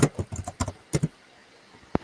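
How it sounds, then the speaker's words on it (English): Typing on a computer keyboard picked up over an open microphone during a voice call: a quick cluster of clattering key taps followed by a pause and one last tap, close and fairly loud. "I hear you're typing, man."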